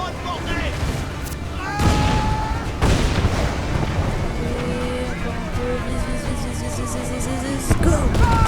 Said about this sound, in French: On va lui envoyer une bonne bordée!